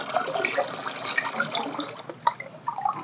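Egg oil liquid poured and stirred into water for watering terrace garden plants, giving a steady close splashing and trickling wash with a few sharper drips, no voices.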